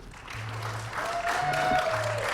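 An audience at a summer theater camp show gives a short round of light applause for an act. The clapping is moderate and fairly distant, with faint low tones in the background.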